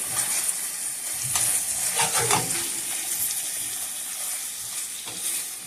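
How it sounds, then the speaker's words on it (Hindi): Shrimp karahi sizzles steadily in hot oil as chopped coriander is stirred through it, a close, continuous frying hiss with a few brief scraping strokes and no talking. "अब हम इसमें कटा हुआ धनिया डालेंगे और इसको मिक्स करेंगे।"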